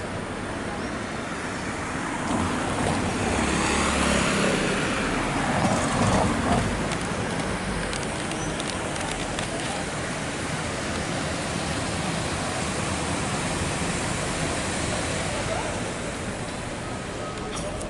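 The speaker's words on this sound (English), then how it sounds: "So that's the river running down below our feet." The River Darro rushes through a culvert below, a steady loud broadband roar of flowing water that continues unbroken, with no voices.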